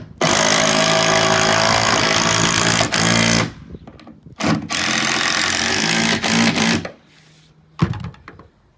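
Power driver sinking screws through metal angle brackets into the sidewall of a garden studio, with long loud bursts of whirring drive broken by short pauses and a final thunk.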